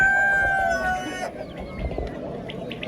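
A rooster crows once loudly and close at a poultry market, the call trailing off after about a second into a background of clucking fowl and faint market noise.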